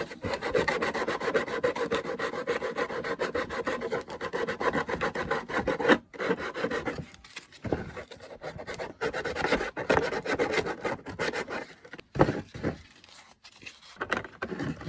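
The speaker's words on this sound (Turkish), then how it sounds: "Zımpara yardımıyla kenar keskinliklerini de temizleyip" Steady rasping rub of sandpaper scraping back and forth on the hard metal edge of a paint can, close and continuous, with a few brief pauses.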